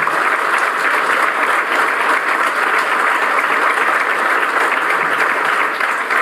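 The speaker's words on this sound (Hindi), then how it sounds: "उसके लिए जोरदार तालियां" A seminar audience claps loudly and continuously, a dense, even roar of applause that holds at full strength for the whole six seconds.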